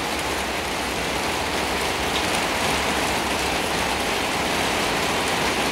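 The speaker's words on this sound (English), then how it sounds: "Oh yeah, still raining." Steady rain pours down continuously, a dense hiss of drops hitting surfaces with no voices or pauses.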